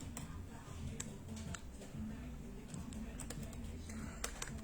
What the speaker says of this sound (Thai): คีย์บอร์ดแท็กแพดนะครับสามารถพิมพ์ได้เหมือนเดิมนะครับ